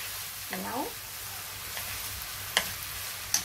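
Eggplant frying in a pan for a chicken curry, a faint steady sizzle with a few light clinks of utensils.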